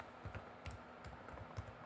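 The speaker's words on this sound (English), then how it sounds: "Let's type in YouTube." Keys tapped on a computer keyboard in an irregular run of soft, close clicks, with a faint steady hum underneath and no voices.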